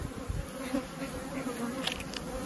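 Honey bees from foundationless package colonies buzz and fan at the hive in a dense, steady drone, close and continuous.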